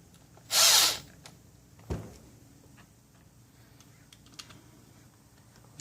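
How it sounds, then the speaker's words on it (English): A power drill briefly whirs as it quickly runs screws into a 20 amp extension cord plug, one loud short burst followed by a faint click and quiet workshop handling noises. "Just run them in quick with the drill"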